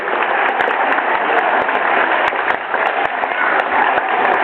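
Spectators at an award ceremony clap continuously through the whole stretch, a dense, steady, fairly loud patter of applause with a few sharper individual claps standing out.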